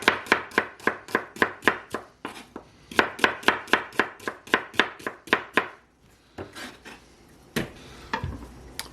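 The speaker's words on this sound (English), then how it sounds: "just slice them up" A knife slices carrots on a cutting board in rapid, even chops, two quick runs of about a dozen strokes each, then a few slower scattered cuts, close and crisp.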